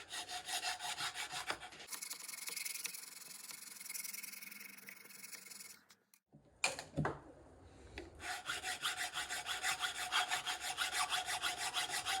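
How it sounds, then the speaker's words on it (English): A hand file removing material from a Benelli M4 shotgun receiver around the loading port, rhythmic rasping strokes up close, pausing briefly midway before the steady back-and-forth filing resumes. "this file does just fine. It's taking the material down pretty quick"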